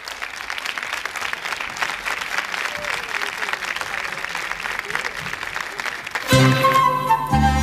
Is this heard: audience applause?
yes